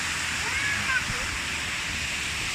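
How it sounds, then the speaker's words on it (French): A temple waterfall in Khao Kho, set among mountains, pours as a steady broadband rush that holds even throughout, with faint talk and a few bird-like chirps above it. "une belle cascade"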